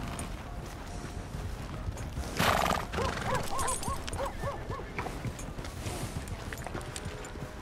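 A horse in the Western video game Red Dead Redemption 2 lets out a loud, close whinny with a wavering pitch, set over a steady bed of hoof clip-clops and outdoor ambience.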